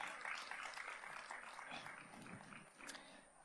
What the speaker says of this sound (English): Please give her a round of applause as she takes her seat.